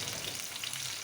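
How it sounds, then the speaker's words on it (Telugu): Coriander seeds fry in hot oil in a pan, a steady soft sizzle with fine crackles, faint and brief with no voices. "ఇప్పుడు కట్ చేసి పెట్టుకున్న ఉల్లిపాయలు వేసి ముందు ధనియాలు వేస్తున్నాను."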